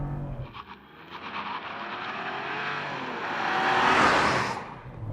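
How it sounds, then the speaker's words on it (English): A 2024 Chevrolet Trax Active SUV accelerates hard with traction control off, its engine droning and rising steadily in pitch and loudness from inside the cabin, with a brief squeal near the start. "We can have a whole conversation while I'm still accelerating barely."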